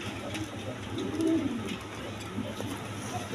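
Cream-coloured Gorra pigeons coo in low, rolling bursts, strongest about midway, with steady background murmur and no clear talk.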